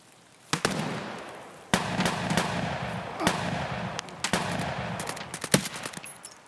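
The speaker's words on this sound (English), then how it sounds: "I maintained as much cover as I could to get an angle and send a few suppressed shots at the first PMC." Suppressed rifle fire at an enemy PMC in Escape from Tarkov, set in woods: several sharp, muffled shots spaced irregularly over a steady low background, fairly close and loud, no talking.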